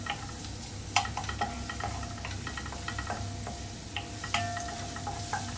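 Chopped garlic frying in a pan for a miswa noodle soup with sardines and sponge gourd, a soft steady sizzle with occasional clinks of a utensil stirring against the pan, close but fairly quiet.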